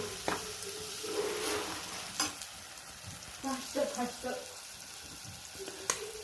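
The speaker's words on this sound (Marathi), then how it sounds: "त्याला दोन मिनिट आणखी मसाल्यामध्ये परतून घ्यायचं आहे आपल्याला" Turmeric and spice masala sauté in a pan for brinjal bharit, with a close sizzle, scraping stirs and a few light clinks of a spoon against the pan.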